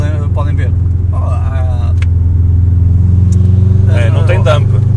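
A Subaru Impreza STI tuned to 350 hp and 420 Nm, with no dump valve, drones with a loud, close, steady turbo engine rumble while someone talks over it throughout.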